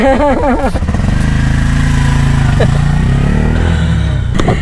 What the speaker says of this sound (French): Et comme ça se finit ma course de tuk-tuk en Sri Lanka.